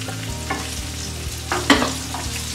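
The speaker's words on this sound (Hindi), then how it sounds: "प्याज को हमें नरम होने तक भून लेना है।" Onion fries in a pan with curry leaves and green chilli, a steady close sizzle broken by a few spatula scrapes and knocks.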